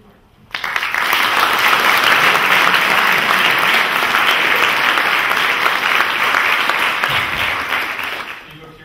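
An audience at an evening science lecture bursts into loud, sustained applause that starts abruptly and continues steadily for several seconds before tapering off.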